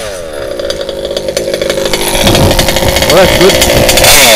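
An unsilenced HPI Baja RC car with a blown-out muffler screams close by, its small two-stroke engine revving harder and louder through the second half as a voice briefly speaks over it.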